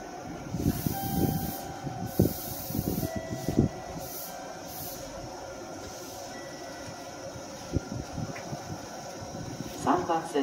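Meitetsu Nagoya Main Line train at Konomiya station, a low rumbling rail and wheel noise with brief squeals and hiss at an open platform, steady throughout, with station announcements spoken over it.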